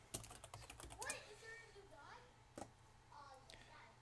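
Keys clatter on a computer keyboard, a quick burst of close taps followed by a few scattered strokes, with quiet talk from a child or adult faint in the background.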